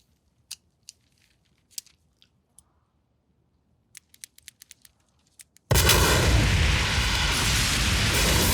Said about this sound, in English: the Joker, Heath Ledger, is walking away from a hospital and pressing a red button to detonate the hospital